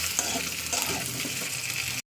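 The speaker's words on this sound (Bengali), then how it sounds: "আমি কচু আলুর সঙ্গে এই তেলের মধ্যে ফ্রাই করবো" Steady, close-up sizzle of taro and potato frying in hot oil, a dense crackling hiss that runs unbroken throughout with no voices.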